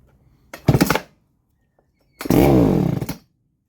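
A Baumr-AG SX92 chainsaw engine fires up twice, first as a short half-second burst and then as a louder roaring run of about a second before cutting out, heard close with quiet between.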